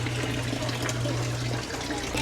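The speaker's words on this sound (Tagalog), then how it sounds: "dito sa ilalim, makikita na natin yung ilog na umaagos dun" River water flows beneath houses inside a narrow tunnel, a steady, dense rushing wash with a low constant hum underneath and no clear breaks.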